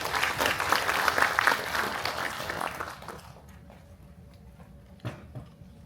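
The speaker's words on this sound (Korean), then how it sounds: "큰 박수 부탁드리겠습니다" A crowd at a residents' meeting on an apartment reconstruction plan applauds a presenter, loud dense clapping for about three seconds that then thins to a few scattered claps over quiet room noise.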